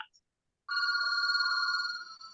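A phone rings loudly during a Bible study class, a bright, steady electronic tone that begins after a brief quiet and holds, with faint background murmur.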